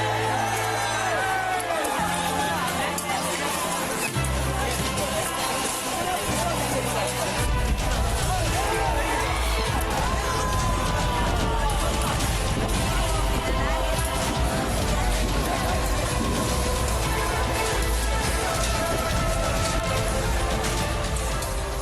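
Hundreds-strong violent mob rioting at a school in Kallakurichi, Tamil Nadu, where buses were set on fire; a dense, loud, continuous roar of crowd shouting and hubbub with scattered whoops, steady throughout.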